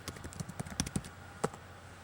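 Quiet typing on a computer keyboard, a quick irregular run of light key clicks with a few sharper taps, close and alone.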